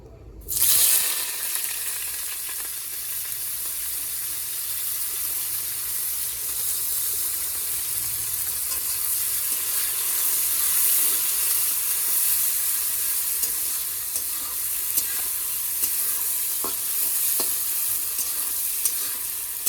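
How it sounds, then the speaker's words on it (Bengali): Onion and chilli fry in hot oil with a sudden loud burst of sizzle as they hit the pan, settling into a steady close hiss and crackle for a long stretch with occasional stirring scrapes. "পেঁয়াজ লঙ্কাটা একটু ভালো করে ভাজা ভাজা করে নিয়ে"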